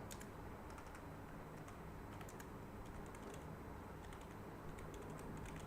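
Quick, steady keystrokes on a computer keyboard as a product summary is typed, the clicks close and continuous over a low room hum with no talking.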